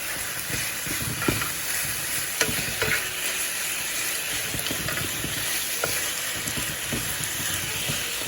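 Turkey and lamb mince cook down in a pan with constant close sizzling and occasional sharp scraping ticks from stirring, and no voices.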